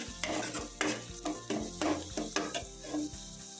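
Onions frying for kale chana masala, stirred in a pan: a steady close sizzle broken by regular scraping strokes of a spoon against the metal, about two per second, with no voices.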